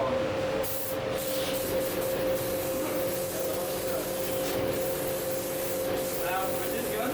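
An air spray gun hisses continuously as it sprays paint or plaster at a Graco training centre, a steady close spray with a constant mechanical tone underneath and brief bursts near the start.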